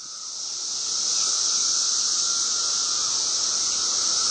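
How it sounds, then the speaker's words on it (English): Periodical cicadas, the kind that emerge every 17 years, drone in a loud, continuous high-pitched buzz that swells during the first second and then holds steady, with no talking. "the cicadas are out now. Those come out every 17 years"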